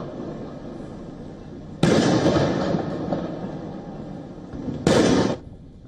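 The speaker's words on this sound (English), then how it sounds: "the Indian Prime Minister also received a 21-gun salute at the ceremonial welcome in Maldives." Ceremonial 21-gun salute at a state welcome in the Maldives: two loud, sharp cannon blasts several seconds apart, each followed by a long rolling echo that fades outdoors.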